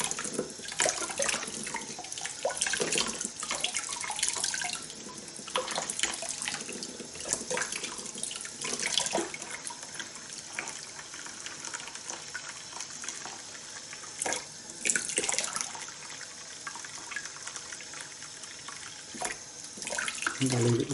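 Tap water running steadily while rinsing a telescope mirror, a continuous splashing stream with scattered louder spatters, fairly faint with occasional handling noises.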